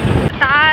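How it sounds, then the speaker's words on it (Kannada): Strong wind buffets a phone microphone outdoors near a lake, producing a loud, steady roaring rumble with a brief tonal, voice-like sound riding over it. "ಗಾಳಿಗೆ ನನ್ನ ಫೋನೇ ಹಿಂದೆ ಹೋಗ್ತಾ ಇದೆ."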